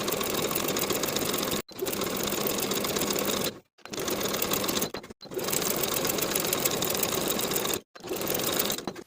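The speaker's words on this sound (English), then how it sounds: "we can sew the sleeve in place from one side to the other with a 3/8 inch seam allowance" Sewing machine stitching a 3/8 inch sleeve seam on a knit V-neck top, fast steady needle whir in four bursts separated by short pauses, close and alone.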